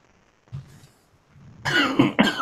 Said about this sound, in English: I'm trying not to cough here so bad